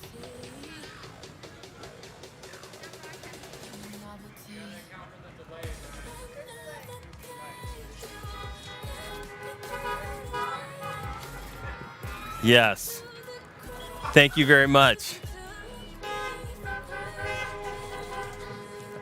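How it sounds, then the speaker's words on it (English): Car horns honk repeatedly in a parking lot at an outdoor senior send-off, with several loud blasts near the middle and end rising over crowd noise and a brief spoken thank-you. "honk your horns."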